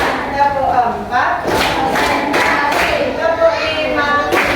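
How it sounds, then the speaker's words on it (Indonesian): Children in a classroom clap their hands in counted claps during a group clapping game, a series of sharp claps under a teacher's voice and lively crowd noise. "Tepuk 1, tepuk 2, tepuk 3,"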